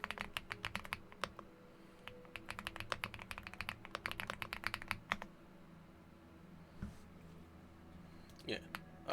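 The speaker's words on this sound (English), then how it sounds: "I can hear you when you're typing away" Rapid keyboard typing during a Honkai: Star Rail game session, bursts of quick clicks, close and clear, with faint background voices underneath; the tapping pauses midway and returns briefly near the end.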